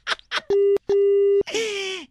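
A telephone busy or disconnect tone follows a hung-up call: two steady beeps, one short and one longer, sounding clearly and loud between stretches of talk.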